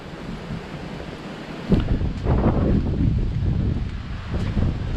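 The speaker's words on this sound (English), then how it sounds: "It's windy. Really windy day." Strong wind on the Coloane seafront road at Hac Sá, Macau, roars and buffets a nearby microphone continuously, swelling in gusts, with a rushing, surf-like texture and no voices.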